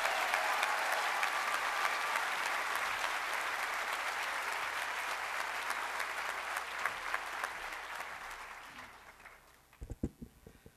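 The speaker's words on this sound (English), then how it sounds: "Let us applaud the class of 2015." Sustained, dense applause from a college commencement audience for the graduating class fills the clip, loud and steady before fading out into a few scattered claps at the end.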